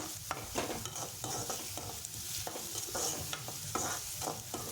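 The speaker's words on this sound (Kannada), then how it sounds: "ಹೀಗೆ ಈರುಳ್ಳಿ ಎಲ್ಲ ಚೆನ್ನಾಗಿ ಫ್ರೈ ಆಗಬೇಕು" Onions fry in a pan for egg fried rice under a loud, continuous sizzle. Rhythmic scraping strokes of stirring repeat every half second or so.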